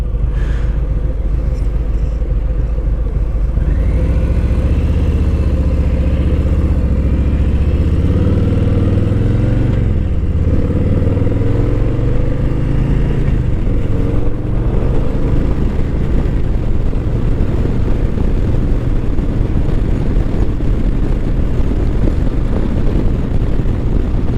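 A 2023 Harley-Davidson Softail Standard motorcycle rumbles loud and close while being ridden, its low engine note rising and falling through gear changes, with wind noise throughout.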